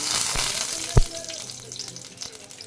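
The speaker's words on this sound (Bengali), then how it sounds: "এবার এখানে আমি দেব গোটা জিরা, দুটো এলাচ, দুটো দালচিনি," Whole cumin seeds, cardamom pods and cinnamon sticks sizzle and crackle in hot oil in a home kitchen, a steady close frying hiss with a sharp pop or clink near the start and small spattering ticks throughout.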